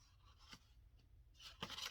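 Scissors cut through fabric while sewing pockets, giving two faint, brief snips close by in a quiet room.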